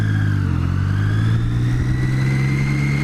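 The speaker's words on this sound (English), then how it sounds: "let me give it a good rev" A warmed-up 2013 Triumph Street Triple motorcycle engine holds a loud, steady, close rev with a strong droning tone that rises slightly partway through.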